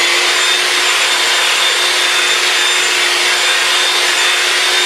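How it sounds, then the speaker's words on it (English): An electric hand mixer on its low setting whirs through flour and wholegrain wrap dough, making a steady, loud, unbroken motor hum with a high whine that runs throughout, and no one speaks. "So I've got my hand mixer, and I'm gonna put it on low."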